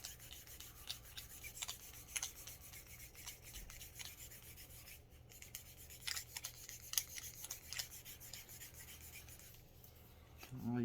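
A wire brush scrubs parts of a Sig Sauer P290RS pistol during cleaning, giving faint, close, scratchy bristle strokes in an irregular twisting rhythm, quiet throughout and without speech.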